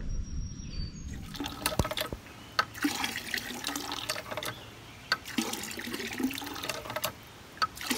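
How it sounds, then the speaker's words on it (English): A Mr. Heater portable shower runs steadily at an off-grid shed cabin in the woods, a continuous hissing spray of water with irregular splashes and spatter throughout, moderately close and with no talking. "Shower water."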